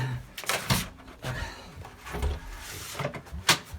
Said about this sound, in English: I'm just going to open the door for the agent.